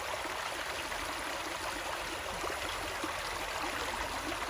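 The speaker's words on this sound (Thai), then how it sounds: "ฟังเสียงน้ำไหลนะคะ" Water flows steadily in a stream, a constant close rushing and trickling with no voices.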